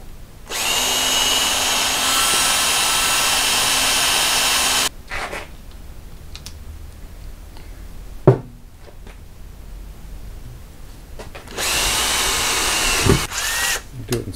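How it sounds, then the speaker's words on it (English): Two bursts of a small drill boring a hole in a Model T car, a steady high whine for about four seconds, then quiet with a sharp clack, then a second shorter run near the end; close and loud, no talking. "Let's just drill a hole."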